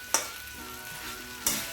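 Chicken pieces fry gently in a kadhai over a low flame, a soft steady sizzle broken by two brief sharp clinks of a utensil stirring against the pan.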